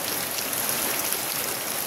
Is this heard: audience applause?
no